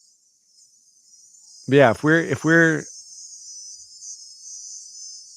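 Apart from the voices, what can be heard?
cicada chirping in Bali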